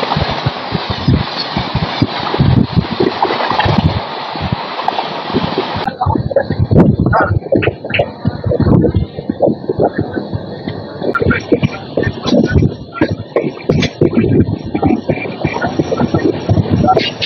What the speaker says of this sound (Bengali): সামনে থেকে আসছে train number 12842 Coromandel superfast express